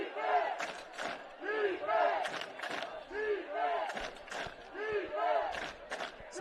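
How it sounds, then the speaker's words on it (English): A high school football crowd at Noblesville chanting for the defense in a rhythmic call-and-response, loud and sustained, repeating in waves with a broad roar of many voices. "Some defense chants going on here at Noblesville. This crowd's getting into it."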